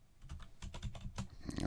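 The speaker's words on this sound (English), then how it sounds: "So we're just going to type" Quick, irregular clicks of typing on a computer keyboard, close and fairly quiet, in short bursts with no voice over them.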